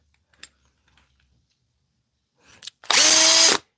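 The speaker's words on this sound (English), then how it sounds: "taking my drill" Power drill fitted with a socket, used to raise a Husky workbench: a few faint clicks and short whirs, then a loud, sustained high-pitched motor whine for under a second close to the microphone.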